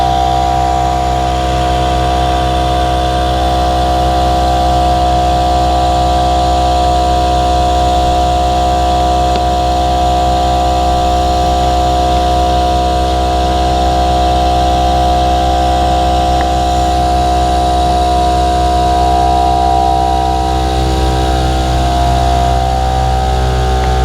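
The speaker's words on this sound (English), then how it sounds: "you can hear that the compressor went off" An air compressor runs continuously and loudly while inflating a cushion of a Camel patient lifting system, producing a steady droning hum with a constant tone and no pauses, close to the listener.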